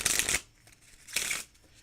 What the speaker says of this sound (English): Bridge shuffling in midair is not the easiest thing in the world to do, but we'll give this a few shuffles